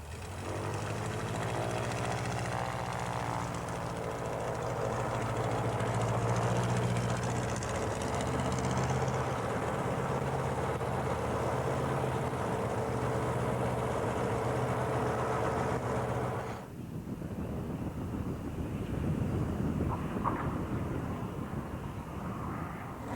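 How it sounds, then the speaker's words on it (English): Light homebuilt aircraft with a newly fitted engine running during ground taxi tests, a steady droning propeller engine with a slight pitch shift, loud and close, then dropping to a lower rumble near the end. "The new engine sounds fine, so here goes. First, some taxi tests, then maybe a takeoff."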